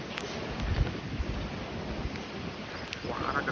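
Gusty wind buffets the microphone at a hilltop viewpoint overlooking the JNPT port, a low rumbling roar that holds steady and swells near the end, with no voices.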